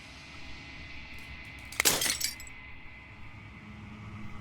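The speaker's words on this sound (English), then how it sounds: "As the final fragment of glass shatters" Glass shatters in the video game Slay the Princess: a single sharp, bright crash with jingling fragments that fade within about half a second, set against a quiet ambient hum.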